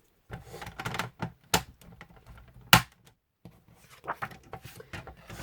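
Paper is folded by hand to make a simple gift box, giving crisp creases, sharp taps and rustling bursts in an irregular rhythm at close range, with brief quiet gaps between them.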